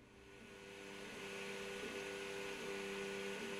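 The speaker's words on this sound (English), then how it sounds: "you can hear the fan, but I think this is normally for a factory 3D printer" An Alfawise U20 large-format 3D printer runs with its cooling fan whirring steadily, a constant mechanical hum with faint stepping tones from the motors underneath, gradually swelling slightly and staying moderate, alone without speech.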